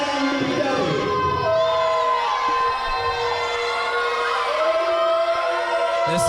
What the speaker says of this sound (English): This crowd here at Santa Fe really letting Super Duperon know what they think of him